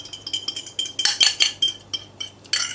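A utensil stirs beaten eggs into thick chocolate brownie batter, giving quick repeated clinks and scrapes against the bowl in an uneven rhythm, close and fairly loud, with no talking.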